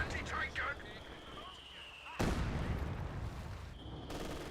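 Grenade blast in Company of Heroes 2, a sharp loud boom that bursts in mid-clip and rolls off into a noisy decay, preceded by scattered game effects.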